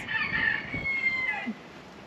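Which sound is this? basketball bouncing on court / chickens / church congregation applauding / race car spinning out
chickens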